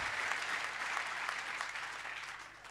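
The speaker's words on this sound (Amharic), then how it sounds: "ለጌታ እልልታ ጭብጨባ እስቲ ደስ ያለው ሰው" A church congregation applauds in praise, a dense, continuous clapping that fades slightly toward the end, with faint voices mixed in.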